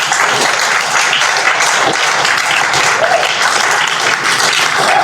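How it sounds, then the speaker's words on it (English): Audience applause for an author at a book event, a steady, dense round of clapping holding loud and even throughout with no voices over it. "please let us give the author a round of applause"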